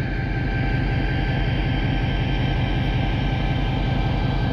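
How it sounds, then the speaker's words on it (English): An EMD diesel locomotive's engine drones steadily, a deep rumbling throb with a constant mechanical hum, as it slowly pulls a train out of a station on the White Pass & Yukon Route Railway. "this EMD motor power pulls its train out of the station"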